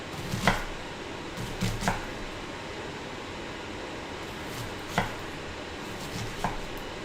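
Onion being chopped very fine on a board, several distinct knife knocks in irregular clusters over a steady faint background hiss, close and alone without speech.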